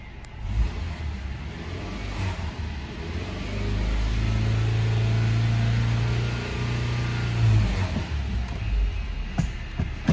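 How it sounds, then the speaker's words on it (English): A 2009 Subaru Legacy Outback engine idles, then revs up and holds a higher steady pitch for a few seconds before settling back down. "Engine revs up good."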